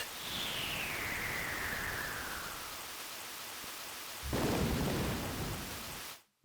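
Thunderstorm with steady heavy rain in the Pokémon White video game, a continuous rain wash with a long falling rumble early on and a louder crack of thunder near the end before it cuts off.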